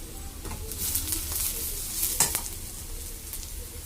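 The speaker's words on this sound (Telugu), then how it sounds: "ఆనియన్స్ ఫ్రై అయ్యాయి కదా ఇప్పుడు ఇందులో కరివేపాకు" Onions and curry leaves frying in hot oil give off a continuous close sizzle with a few sharper spatters and stirring scrapes; faint bird cooing is audible in the background.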